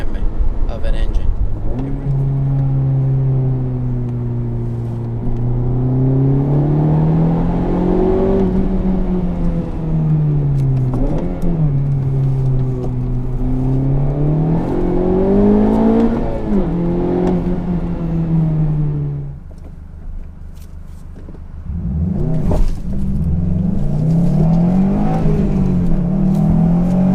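Honda Civic Type R FK8 engine revving hard under acceleration, the note climbing steadily through long pulls with brief dips at shifts, a pause near the end and then another rising surge, loud and close throughout.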